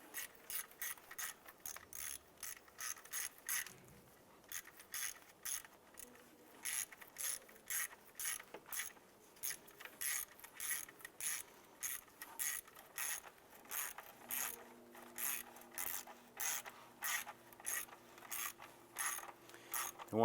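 Ratchet tightening an intake manifold bolt on a 2011-2019 Ford Fiesta, a long series of quick, evenly spaced clicking strokes in short bursts with brief pauses, close up and clear, with no talking.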